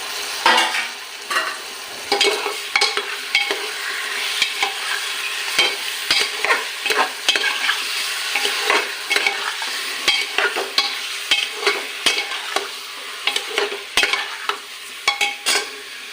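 Half a kilo of broiler chicken meat fries in a pot, a steady loud sizzle broken by frequent scraping stirs of a spoon against the metal, with no voices.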